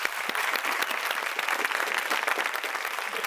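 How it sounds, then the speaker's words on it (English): An audience claps steadily for the winner of a leadership debate competition, a dense, even round of applause filling the room for the whole stretch with no voices on top. "A round of applause."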